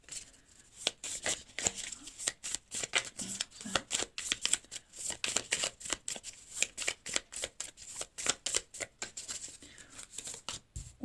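Small fortune-telling cards shuffled by hand, a dense run of quick papery riffles and slaps that is close and soft and keeps an uneven rhythm the whole time, with no talk.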